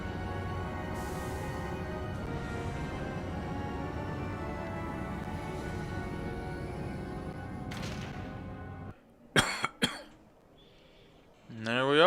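A live streamer gives a quick pair of sharp, close coughs just after a long stretch of steady, dense background noise from Mass Effect Legendary Edition, then things go quieter.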